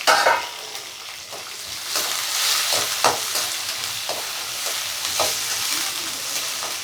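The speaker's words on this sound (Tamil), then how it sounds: "வெங்காயம் நல்லா வதக்கணும்." Sliced onions sauté in a pan for a South Indian tomato gravy, a continuous bright sizzle with repeated stirring scrapes of a spoon against the pan, close and steady with no talk.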